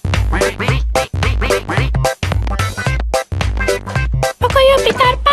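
Cartoon duck from Pocoyo quacking in a quick run of loud, nasal, voiced calls, several short bursts separated by brief gaps, close and clear.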